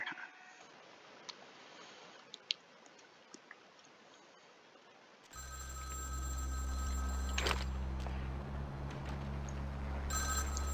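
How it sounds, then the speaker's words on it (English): A telephone rings in a video game, starting after a quiet stretch with a sudden loud electronic ring of steady tones and a low hum beneath it, continuing through the rest of the moment. "A suspicious phone call?"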